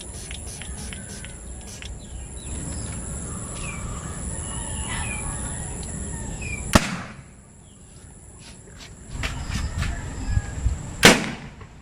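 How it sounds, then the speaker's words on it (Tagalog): A homemade PVC boga cannon fires two sharp, loud booms several seconds apart outdoors, with faint birds and background noise between the blasts. "Narinig nyo naman yung ating boga."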